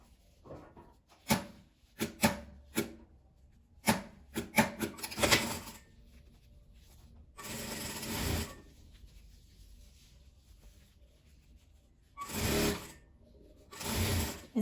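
A sewing machine stitching strips of old denim scraps together for a patchwork jeans bag, heard in short bursts and longer steady runs of rapid mechanical chatter, with quiet handling noises and pauses between.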